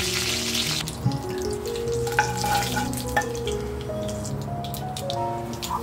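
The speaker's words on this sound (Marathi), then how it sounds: "तेलामध्ये 1/2 टीस्पून मोहरी आणि 1/2 टीस्पून जिरं टाकून घ्यायचं आहे फोडणीसाठी" Mustard seeds, cumin and broken dried chillies with curry leaves crackling in hot oil for a tadka, a steady close sizzle with a few sharp pops scattered through it, no voices.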